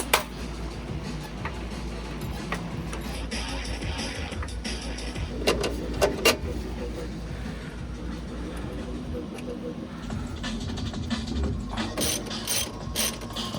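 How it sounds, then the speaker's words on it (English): Hand ratchet clicking as sway bar end links are tightened on an NA Mazda Miata during a coilover install, with irregular bursts of close ratcheting pawl clicks over garage background noise. "Tightening down on these sway bar end links."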